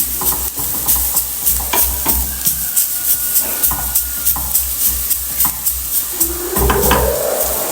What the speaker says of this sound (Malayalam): തീ കുറച്ചിട്ട് ഇങ്ങനെ ഇളക്കിയിട്ട് വേണം വറുത്തെടുക്കാൻ വേണ്ടിയിട്ട്.